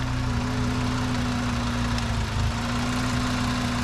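Car engine running right after being started with an Andeman Epower-15 boost pack jump starter, a steady close idle with a low rumble and even hum throughout.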